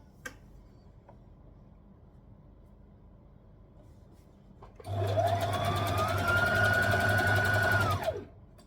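A sewing machine runs steadily for about three seconds while stitching a tulip tee, its whirring motor and rapid needle clatter starting abruptly, holding an even pace up close, then stopping.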